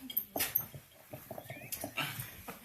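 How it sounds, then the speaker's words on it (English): Golden retriever puppy named Appa whimpering nearby, a string of soft, high, breathy whines and little yips in an irregular rhythm, with light background noise between cries. "Appa's a golden retriever."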